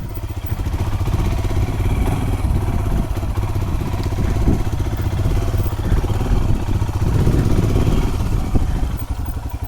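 An upgraded Royal Enfield Himalayan motorcycle rumbles steadily at low revs on a slow, technical trail, with the engine loud and close, varying its throttle, and some clatter over the terrain.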